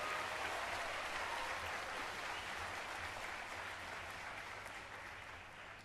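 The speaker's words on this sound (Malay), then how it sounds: "Marilah kita sama-sama memberi penghormatan dengan memberikan tepukan yang paling gemuruh untuk menghargai semua yang berada di dalam dewan ini." Sustained applause from an audience filling a hall at a university convocation, steady and dense for several seconds before easing slightly toward the end, with a faint low hum underneath.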